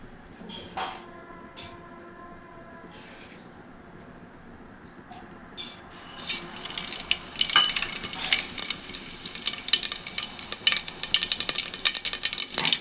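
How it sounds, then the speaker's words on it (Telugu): Mustard seeds, cumin and fenugreek hit hot oil for a fish curry. A few scattered clicks come first, then a dense crackling, popping sizzle builds and stays loud and close through the second half, with no voices. "ఆయిల్ బాగా హీట్ అయిన తర్వాత ఆవాలు జీలకర్ర మెంతులు వేసుకోండి"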